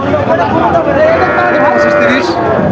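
A Nepali breed cow lows at a busy cattle market in Chaugachha, a few moos rising over the steady crowd noise while people talk nearby.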